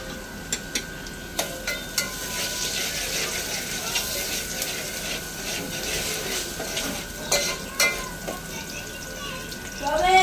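Garlic and curry leaves sizzle and fry in a hot pan, a steady close crackle broken by sharp clinks of a utensil against the metal, with a voice speaking over it.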